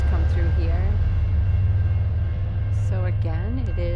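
A South Coast Rail train passes the Berkley crossing at night with a loud, continuous low rumble of rolling wheels and cars, while people talk over it.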